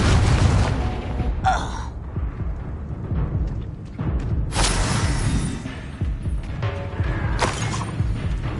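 A blasting Confringo spell explodes during Hogwarts Legacy combat, heard as a few loud, booming bursts with crackling debris over continuous battle noise and music.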